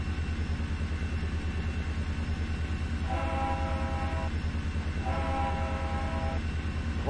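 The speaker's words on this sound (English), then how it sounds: "the horn sounds a little weird." A diesel locomotive horn in the Train Sim 2020 game, on the Norfolk Southern Coal District, sounds two sustained blasts over a constant low engine rumble, each lasting about a second.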